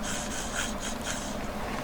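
A small sharp drill, lubricated with heavy gearbox oil, bores a hole through a handmade brooch pin catch, giving a steady close grinding, rasping whir with faint pulsing strokes and no talking.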